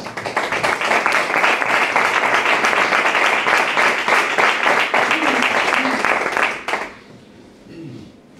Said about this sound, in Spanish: vamos a darle a ese jurado el primer aplauso de la noche.